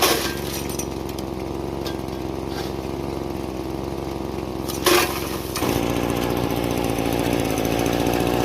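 A small engine on a gold-prospecting dry washer runs just above idle outdoors in Arizona, a steady rough drone throughout, with a brief clank near the middle and a slight rise in pitch afterward.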